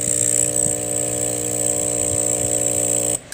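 A Hailea ACO-318 45-watt electromagnetic air compressor hums loudly and steadily with a strong buzzing tone, running continuously before cutting off abruptly near the end.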